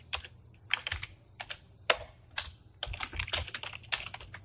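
Code being typed on a computer keyboard during a programming lecture: irregular clusters of crisp key clicks, some rapid runs and brief pauses, close and fairly quiet with no talking.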